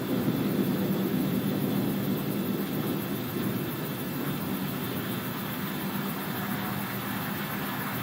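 Falcon 9 first stage center engine relighting for its landing burn, heard as a steady broadband roar and hiss that holds constant throughout, with no voices.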